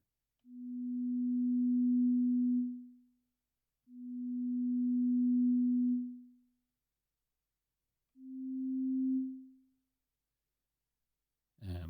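Three soft synthesizer tones in Drambo, each a low sine-like note that swells in gradually with a slow attack, holds, then fades; the last is shorter, with a faint click at the end and nothing else underneath.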